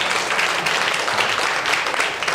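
A church congregation claps together during a Sunday Mandarin worship service. The applause is steady, dense and close, filling the whole short stretch without a break.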